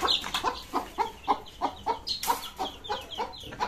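Tiger chickens and a rooster in a yard cluck in a quick, steady string of sharp repeated calls, fairly close and clear, with no other sound over them.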